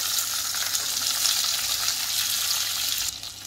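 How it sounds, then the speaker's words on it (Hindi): Chopped tomatoes hitting hot oil with cumin in a kadhai, a loud, dense, steady sizzle that drops away sharply near the end, no talk. "अब मैं यहाँ पे डाल रही हूँ टमाटर जो हमने काट के तैयार रखे थे"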